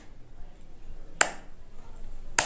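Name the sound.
hand clap triggering homemade clap switch circuit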